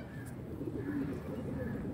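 Pigeons coo in a loft where a small, all-white female is kept, low throaty calls rolling quietly and repeatedly at moderate distance.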